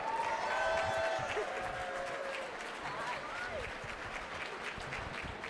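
Gala audience in a hall applauds with light, scattered clapping and a few cheers, moderately distant, while voices talk over it.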